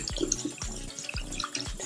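Tap water runs over soapy makeup brushes being rinsed clean, a steady close splashing broken by repeated sharper drips and spatters, with no voices.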